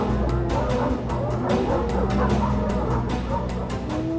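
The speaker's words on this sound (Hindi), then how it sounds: "कुत्ते भौंक उठे" Dogs bark in quick repeated bursts, sharp yips and woofs coming one after another, fairly close and loud over a low background hum.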